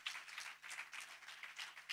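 A church congregation applauds during a sermon, with fairly faint, continuous clapping from many hands whose rhythm swells and dips slightly, heard at a distance.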